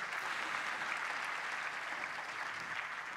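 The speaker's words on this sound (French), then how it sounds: "pouvez l'applaudir, s'il vous plaît" Steady, fairly faint applause from an audience at a Salesforce Cloudforce business event in Paris, a continuous even wash of clapping with no voices standing out.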